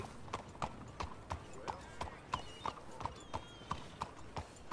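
Steady clip-clop of horse hooves at a walking pace in the video game Red Dead Redemption 2, regular hollow knocks repeating close by over a low background bed.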